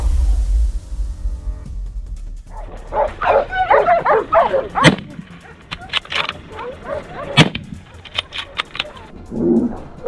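A hunting dog barks and yips in rapid, frantic bursts at close range, with whimpering notes between volleys, during a snowy wild boar hunt; low rumbling and a voice are briefly heard at the start.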